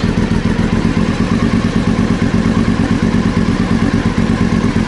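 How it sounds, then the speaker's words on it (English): A Triumph Speedmaster motorcycle engine runs during a test ride, a loud, close, steady rhythmic thumping pulse that holds evenly throughout with no voices. "I took the bike up for a quick test ride, running really well"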